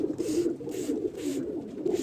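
A pigeon coos steadily in soft, repeated low throaty phrases while it is being coloured with paint, close by and fairly quiet, with no talking.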